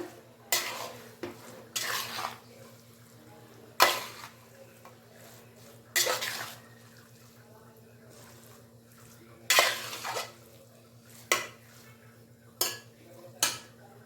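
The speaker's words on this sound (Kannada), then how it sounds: "ಈಗ ನೂಡಲ್ಸ್ನ ಹಾಕೋಬಿಡೋಣ ಚೆನ್ನಾಗಿ ಮಿಕ್ಸ್ ಮಾಡೋಣ" Hakka noodles being stirred and tossed in a pan, with intermittent scraping bursts of utensil against metal over a low steady hum, close and fairly loud, with no speech.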